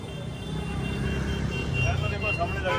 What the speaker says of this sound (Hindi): काफी लंबा जाम है यार